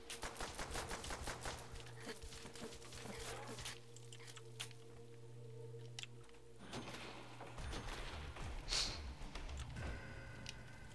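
Gunfire sounds through a Call of Duty custom zombies match. Rapid shots crackle and overlap almost the whole time, with game sounds mixed in, and the level stays fairly faint.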